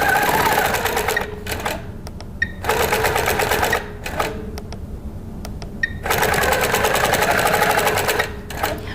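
A quilting sewing machine stitching free-motion meander and echo lines runs in long steady bursts of rapid needle chatter, pausing briefly between runs, loud and close.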